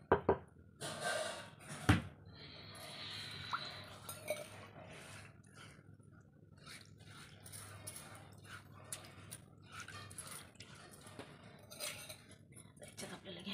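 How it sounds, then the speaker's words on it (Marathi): A stone grinding pestle being washed with water gives clinks, knocks and splashy rinsing sounds, with a few sharp bangs early on and scattered scraping and trickling afterward, close and fairly quiet. "ते बघा छानपैकी असं आता पाणी धुवून घ्यायचं आपल्याला वरवंटा"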